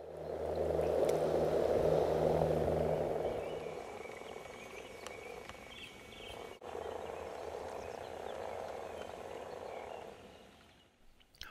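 Frogs at a breeding pond croak in a dense continuous chorus, loud at first and then thinner, with a low motor-like hum underneath early on.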